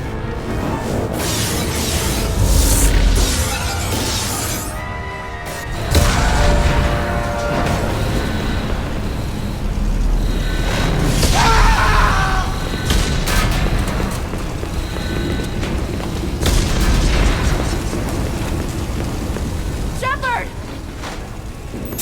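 A spaceship's hull is breached in Mass Effect 2, with deep booms and rumbling explosions over alarms and shouting voices as the ship comes apart, loud and chaotic throughout.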